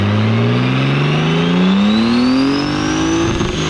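A turbocharged M52 engine in a beat-up BMW E36 drift car revs steadily upward, its loud harmonics climbing in pitch across the clip and staying close and continuous without any voices.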